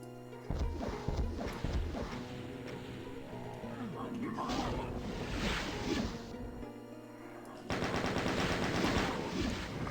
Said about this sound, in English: just use the chain gun on him